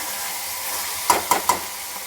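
Vegetables with tomato stirred in a pan for a spicy brinjal and field bean curry, a soft steady sizzle with three quick scraping stirs close by, no talk.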